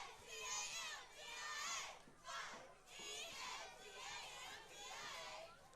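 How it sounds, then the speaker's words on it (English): Cheerleaders down front at a high school football game between Escambia Academy and Banks Academy chant for the Cougars in loud, rhythmic group shouts that rise and fall in waves, carrying steadily throughout. "as the cheerleaders down front do a good job cheering for these Cougars"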